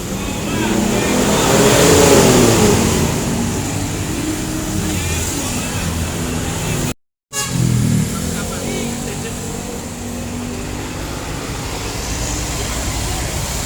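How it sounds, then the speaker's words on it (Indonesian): A bus pulls away from a roadside stop on a busy Jakarta road, its engine rumbling steadily amid traffic noise, with a brief dropout midway and a voice talking over it. "Setelah selesai mengisi penumpang, bus akan segera melanjutkan perjalanan."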